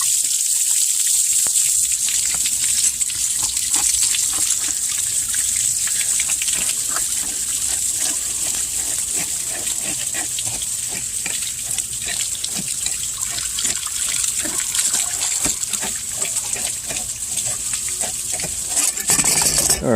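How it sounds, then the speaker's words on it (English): Water gushes and splashes steadily from a paper pool filter cartridge being cleaned, a loud continuous spill like an open tap running for the whole stretch. "There's all the water spilling out."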